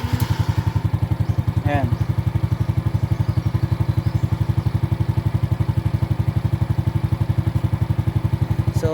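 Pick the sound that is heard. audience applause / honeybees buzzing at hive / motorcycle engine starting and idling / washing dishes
motorcycle engine starting and idling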